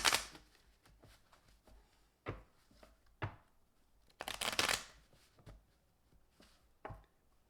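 A tarot deck shuffled by hand: sharp riffling bursts and soft card slaps in irregular groups, close and quiet, with no speech.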